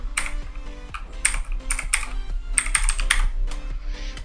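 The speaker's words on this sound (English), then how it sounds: "So let me just type that down." Fingers type on a computer keyboard up close, a quick, uneven patter of light key clicks with brief pauses and no talking.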